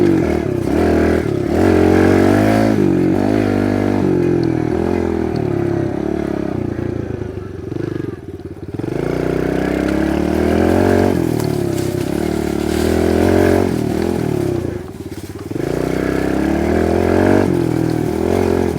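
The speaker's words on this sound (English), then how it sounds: "So is this the best little pit bike?" Kawasaki KLX 110R pit bike engine revving up and down repeatedly, loud and close, with short throttle blips and a brief dip near the middle before climbing again on the trail.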